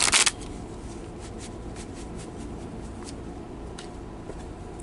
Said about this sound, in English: I need to shuffle the cards.